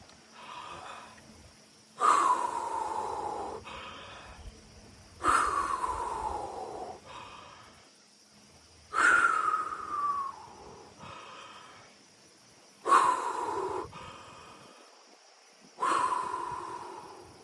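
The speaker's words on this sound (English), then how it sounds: "So I'll do a couple and you can see. Again, open mouth breathing." Open-mouth breathing exercise for martial artists: five evenly spaced, loud, close breath cycles, each a sharp rushing inhale followed by a longer fading exhale, with quiet gaps between.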